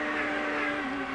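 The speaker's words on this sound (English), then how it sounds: "you can hear Vassar, if you listen to the engine note, you can tell that he's a left-foot braker" Race car engine note from a 1997 IndyCar street race at Surfers Paradise, Australia, working through a chicane: a steady, loud, buzzing high-revving drone with a slight pitch shift near the end, no talk over it.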